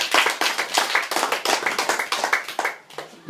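A small high school debate audience clapping for a debater, a dense burst of close hand claps that thins and trails off toward the end.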